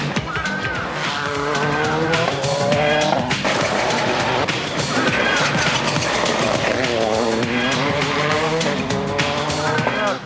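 Rally car with Philippe Bugalski at the wheel on a test run, engine roaring loud and close with continuous revving, shifting pitch and tire squeal throughout, a voice faintly mixed in.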